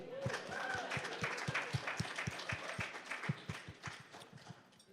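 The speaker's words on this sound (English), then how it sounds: "Should we have a clap for Paul?" A church congregation claps in steady, evenly spaced beats, a crowd of hands striking together in a firm rhythm that gradually softens near the end.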